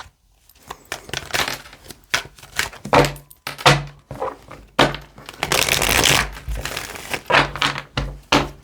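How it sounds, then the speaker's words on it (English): Tarot deck being shuffled by hand, a run of uneven papery riffles and crinkly bursts with short pauses between them, close to the microphone and without talk. "This deck doesn't want to shuffle today."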